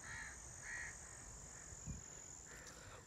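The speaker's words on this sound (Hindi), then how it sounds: "ये जो परिंदे हैं कवे और मैना लालियाँ वगैरह, ये शोर करना शुरू कर देती हैं" Crows and mynas by a canal call out in alarm at a shikra hawk hunting nearby. Several quiet caws repeat at a distance over a steady high insect whine, with a soft thump in the middle.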